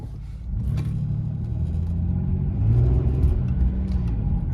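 A 1999 Ford Taurus sedan drives along, its engine a steady low rumble with road noise that swells slightly as the throttle opens, heard from inside the car with no talking.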